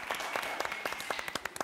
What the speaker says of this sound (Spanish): Un aplauso para Ali Bustante en la guitarra.